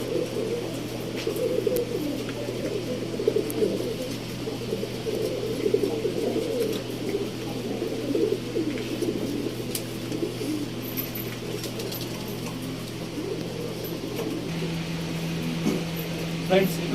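Domestic pigeons kept for racing coo softly in a loft, repeated low murmuring calls over a steady fan-like hum, with a voice speaking at times.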